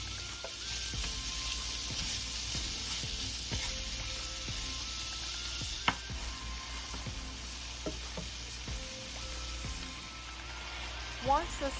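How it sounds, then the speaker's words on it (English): Sausage and onions sauté in a pan, a quiet steady sizzle with occasional scrapes and clicks of a utensil, faint background hum throughout. "we will now add the sausage and continue to saute."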